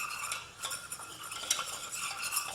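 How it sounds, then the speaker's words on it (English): Flour is stirred into melted butter in a pan to make a roux, giving a soft, close scraping and swishing with light utensil clinks, quiet and alone. "I'm going to add 50 grams of flour and give it a good stir"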